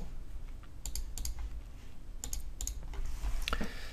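Typing a setx command on a computer keyboard and then pressing Enter, a handful of soft, close key clicks in small clusters over a steady low hum, ending with a slightly firmer press, with no talking.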